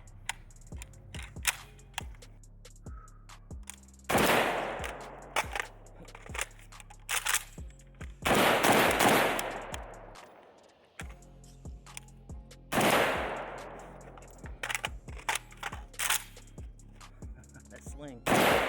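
A Pioneer Arms 556 sporter underfolder AK rifle fires in several bursts of sharp, loud reports spread across the stretch, with ringing echo after each volley and handling clicks and rattles between them.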